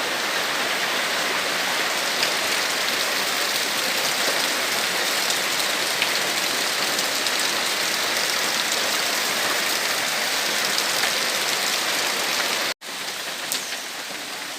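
Heavy rain pours down steadily in a dense, unbroken hiss that is loud and close, with a brief break near the end before the downpour continues.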